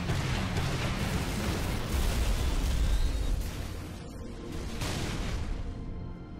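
Heavy gunfire booms in Halo 3: ODST as shots hit a generator, over a loud, rumbling background, with a few distinct shots standing out before the din eases slightly.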